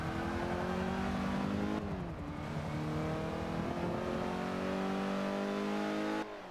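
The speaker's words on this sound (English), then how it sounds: "Now I can just hear the roar of the engine." A car engine in the Forza Motorsport 5 racing game roars steadily at high revs, and the pitch dips briefly twice as gears shift. It is continuous and moderately quiet, with no talking.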